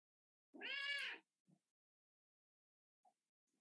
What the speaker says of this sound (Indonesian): Repot saya diganggu kucing.